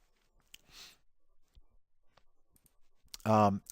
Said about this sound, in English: So clicking in that box will then sort this list in giver number order.